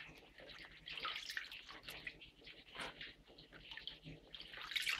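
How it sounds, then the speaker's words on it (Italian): Vegetables soaked in water with baking soda are lifted out by hand, giving soft, irregular splashes and drips at close range, quiet with no talking. "Adesso iniziamo a levare questa verdura di nuovo dall'acqua."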